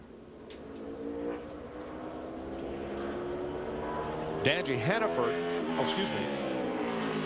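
A NASCAR Busch Series race car runs a qualifying lap at Richmond International Raceway, its engine droning at a distance and then rising and falling in pitch. A commentator talks over it throughout.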